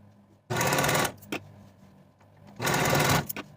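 Sewing machine stitching together the short ends of a folded ruffle piece for a boho top: two loud, steady runs of rapid stitching, each about half a second to a second long, separated by a quiet pause.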